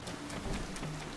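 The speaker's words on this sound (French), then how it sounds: "Ah, par contre, il pleut." Steady rain falls in the game The Legend of Zelda: Tears of the Kingdom, an even hiss that runs through the whole short moment with faint patter and no voices.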